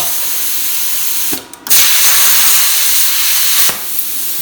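A Bestarc BTC500XP plasma cutter cutting metal produces a loud, steady broadband hiss, briefly interrupted for a moment before resuming, then dipping again near the end.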